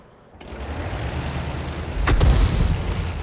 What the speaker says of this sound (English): narrowly missed being hit by the enemy Arty